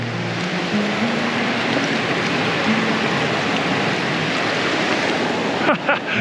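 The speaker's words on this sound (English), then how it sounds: "we're right down at the river" A mountain river in Nepal rushes past a rickety wooden footbridge on a Himalayan trek, a loud, constant roar up close, with a few faint knocks near the end.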